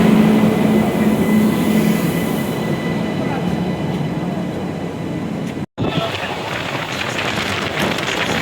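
A late-running train rolling along, heard from inside: continuous loud rumble and clatter of the wagons with a rain-like hiss, broken by one brief dropout near the end.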